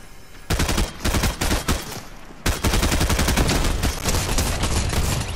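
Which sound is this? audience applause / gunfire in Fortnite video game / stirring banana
gunfire in Fortnite video game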